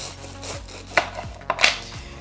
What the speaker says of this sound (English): I have a serrated knife, which is important. Cut off the top